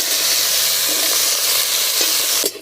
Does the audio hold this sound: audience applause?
no